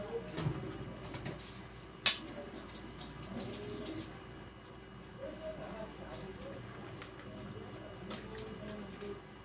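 Running tap water while washing dishes, a steady close splashing flow with a sharp clink near the start, heard under intermittent talk.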